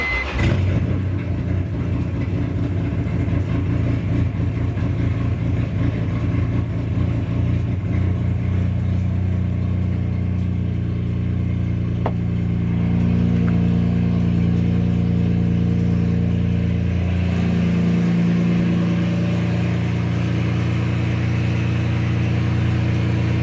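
BMW M3 touring engine with only partial exhaust fitted fires up and runs loud and raw, a strong low idle with throttle blips and fluctuating revs throughout, close and alone.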